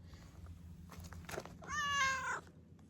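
A full-grown cat meows once, a clear drawn-out call near the end, preceded by soft rustling and small household noises, recorded close and fairly quiet.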